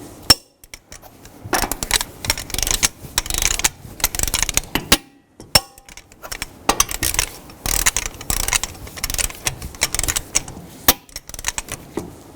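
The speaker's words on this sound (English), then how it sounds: "Now I'm going to torque the lug nuts in a cross pattern to 140 foot-pounds." A torque wrench clicks and ratchets in bursts as lug nuts on a Chevrolet Equinox wheel are tightened in a cross pattern, with brief pauses between rounds of close metallic clatter.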